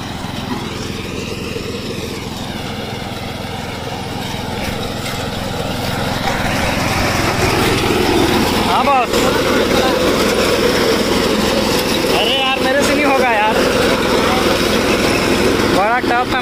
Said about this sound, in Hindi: जगेश्वर मेरे को फिर बुला रहा है मशीन चलाने के लिए